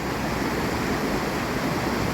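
Wallace Creek on the Pacific Crest Trail in the Sierra Nevada, a steady, loud broadband rush of flowing water close by, with no voices present.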